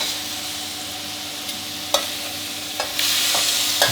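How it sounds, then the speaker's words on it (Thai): Pork belly sizzles steadily in a hot pan over high heat while a utensil stirs and scrapes, with a few sharp clinks against the metal. "ผัดไฟแรงต่อยครู่เดียวครับ"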